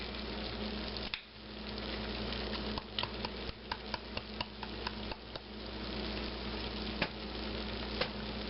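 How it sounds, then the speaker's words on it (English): Garlic and paprika stirred into a pot of cowboy-style Hoppin' John, a steady sizzle underneath with a series of soft, regular wooden-spoon knocks and scrapes, close and clear with no talking. "And stir that in."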